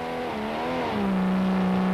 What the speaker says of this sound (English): Harkes used the tremendous torque of his V8 engine to muscle his way past Coetzee